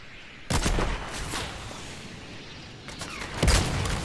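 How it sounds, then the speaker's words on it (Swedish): Gunfire in the video game Fortnite: two sharp bursts of loud shots with rumbling echo, the first around half a second in and the second near three and a half seconds, with quieter firing between. "han skjuter på oss"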